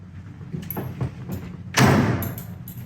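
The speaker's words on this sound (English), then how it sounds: "Doors shut easy too, you barely have to touch them." Doors on a 1970 Chevelle being shut, several soft thuds followed by one heavier, louder closing thump near the end, all close by with no talking.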